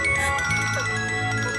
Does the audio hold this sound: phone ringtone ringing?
yes